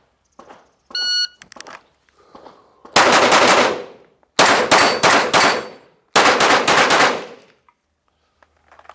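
Rapid pistol gunfire on a shooting range, loud close bursts of several quick shots in three groups after a couple of short electronic timer beeps, with sharp echoing reports and silence between strings.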